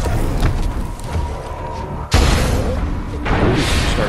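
An explosion goes off in the Dead Island 2 video game: a sudden heavy boom cuts in midway over a busy game soundscape, followed by a rumbling roar and a second burst of noise near the end.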